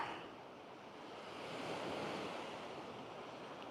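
Ocean waves roll onto the beach at Playa Paraíso in a steady, continuous wash of surf, swelling slightly in the middle, with wind noise across the microphone and no voices.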